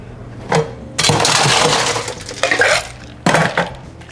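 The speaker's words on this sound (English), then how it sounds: "Add ice." Ice cubes drop into a metal shaker for a Sidecar made with Cointreau orange liqueur and fresh lime juice, giving several loud clattering, rattling bursts with short pauses between them.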